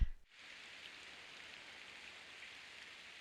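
Steady hiss of rainfall in the video game Fire Emblem: Path of Radiance, an even, continuous wash of drops after a brief low thump at the start, with no talking.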